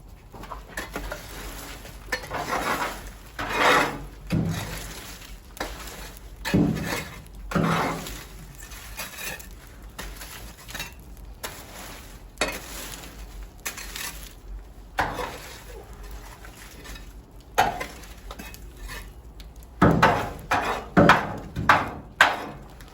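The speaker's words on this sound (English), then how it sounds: "You can hear that metal on metal in the back" Repeated metallic scraping and clanking of metal on metal inside a wood stove, in irregular strokes over a steady low rumble.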